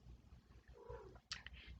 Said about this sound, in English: Sorry about the cat in the background, she's in heat.